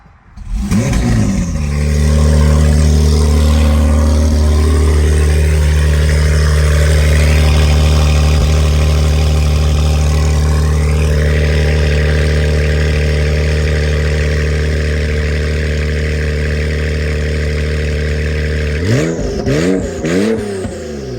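Supercharged Honda K20A engine in an Integra Type-R starting up and settling into a loud, steady idle for a long stretch, then a few sharp revs near the end.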